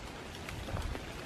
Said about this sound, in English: Oh God, the rain is like really bad over here.